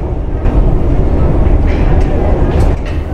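Metro train at T-Centralen station in Stockholm, a steady loud rumble of rolling wagons and station noise throughout, with faint voices in the background.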